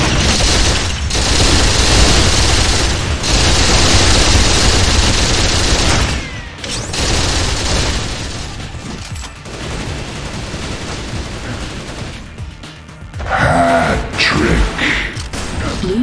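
Heavy gunfire in Unreal Tournament 3 during a capture-the-flag match on The Crucible, a loud dense barrage of rapid shots and booms that drops briefly, then keeps rattling on with a sharp burst near the end.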